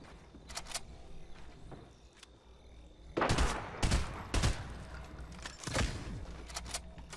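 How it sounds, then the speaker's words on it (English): Gunfire coming from behind in Fortnite Battle Royale: a few quiet single shots, then several loud sharp gunshots in quick succession over a low background rumble. "we're getting shot from behind."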